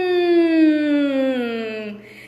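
A single voice imitates an aeroplane taking off, making a steady, loud, buzzing hum that slowly glides downward in pitch for about two seconds before trailing off.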